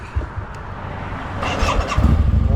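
A Harley-Davidson V-Rod motorcycle that hasn't been ridden in a while cranks and catches, with a few sputtering turns before the engine fires and rises into a loud, rumbling idle close by.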